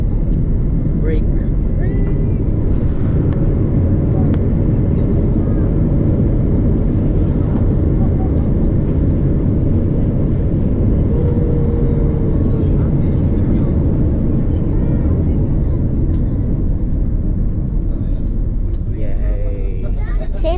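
A passenger jet rolls down the runway after landing at Narita International Airport, a loud, steady cabin roar and rumble that lasts throughout, with passengers talking over it.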